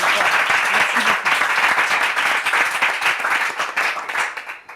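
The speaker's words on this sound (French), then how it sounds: "Il s'agit bien sûr de Donatien, qu'on peut également applaudir très fort." Dense applause and clapping from an audience at a Bible quiz competition, loud and steady before tapering off toward the end.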